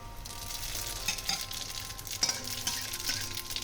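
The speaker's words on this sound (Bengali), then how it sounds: "এবার তেলের মধ্যে ফোড়ন দিয়ে দেবো তেজপাতা," Whole spices (bay leaf, dried red chillies, radhuni and cumin) tempering in hot oil in a pan, a soft steady sizzle with small crackles and pops, close and fairly quiet.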